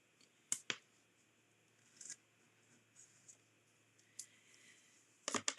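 Scissors snip through paper or tape while a gift bag with a belly band is assembled, a few sharp separate snips near the start and a quick cluster at the end, quiet gaps between.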